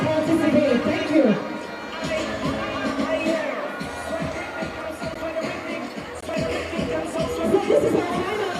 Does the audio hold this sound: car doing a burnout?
no